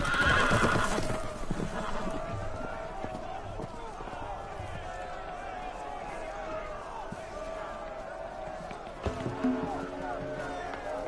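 Horses whinny loudly at the start amid clattering hooves in the video game Telltale's Game of Thrones, followed by a sustained mix of neighing, galloping and commotion with voices shouting over it as loose horses scatter.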